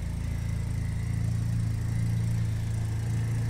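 A heavily modified 1996 BMW Z3 idles while warming up, giving a steady low engine hum with a faint rhythmic pulse, close and even, with no talk.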